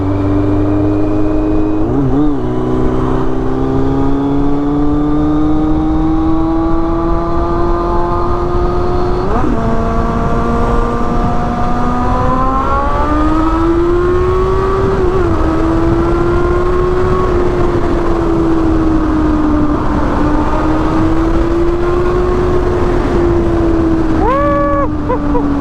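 Motorcycle fitted with an SC Project exhaust revving hard and pulling through the gears, its rising engine note sustained and loud close-up over steady wind rush, with brief dips at each shift.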